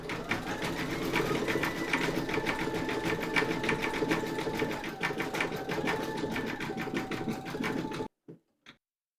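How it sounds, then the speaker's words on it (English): An embroidery machine stitches white thread for a Halloween kitty's eyes with a fast, even mechanical chatter and hum that runs steadily, then stops, leaving a couple of brief clicks. "Load your matching bobbin and thread colour for the white of the eyes into your machine and then stitch round number 5"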